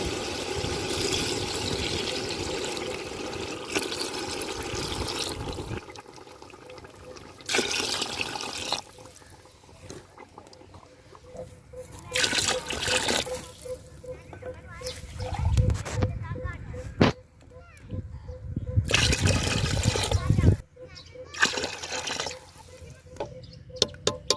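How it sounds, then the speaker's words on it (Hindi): Water being poured into a pot of fried potatoes and peas for pulao, splashing and trickling in bursts between stretches of someone talking. "अब मैं इसमें पानी शामिल करूँगी।"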